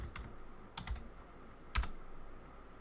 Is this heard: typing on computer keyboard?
yes